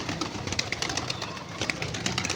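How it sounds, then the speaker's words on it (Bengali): Pet pigeons coo softly and repeatedly at close range, overlapping murmurs over a light background hum. "পোষা কবুতর আমাকে দেখে খাবারের জন্য এসে পড়েছে।"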